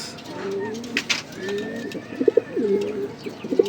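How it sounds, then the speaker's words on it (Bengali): A Maxi racer male and a Giribaz high-flying female pigeon coo in soft rolling bursts close by, several short throaty calls repeating across the moment. "নটটা হচ্ছে মাক্সি রেসার, আর মাদিটা হইতেছে গিরিবাস। হাই ফ্লাইং কবুতর"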